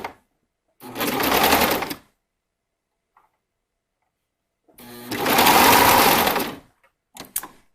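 A serger stitching an elastic neckline on a gown runs in two loud, close bursts of rapid whirring, about a second and nearly two seconds long, separated by silence, with a brief restart at the end.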